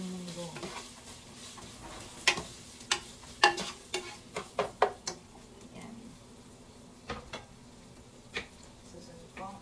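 Onion and ginger sauté in a pan, a low sizzle beneath a run of sharp utensil taps and scrapes against the metal, bunched in the first half and sparser afterward.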